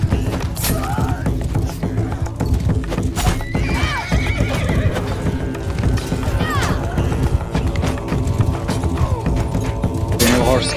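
Horses whinnying repeatedly over rapid clip-clopping hooves and thuds in a Bannerlord multiplayer siege battle, a busy galloping commotion with a voice briefly speaking underneath.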